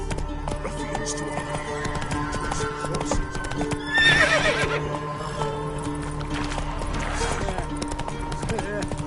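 A horse gallops with rhythmic hoofbeats and whinnies loudly midway in The Witcher 3, set against game music and ambient sound, while someone talks briefly.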